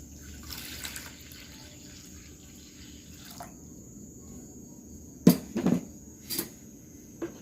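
Water runs from a tap into a container to dissolve a ground pesticide mixture with detergent, a steady pour followed by a few louder splashes near the end.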